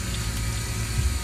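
Oil pouring and splashing out of a leaking engine during a diesel injector diagnosis, a steady liquid gush with a low rumble, close and continuous throughout.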